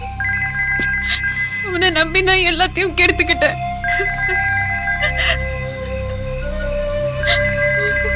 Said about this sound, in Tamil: அதான் அப்பா ஃபோன் பண்ணிட்டு இருக்காரு.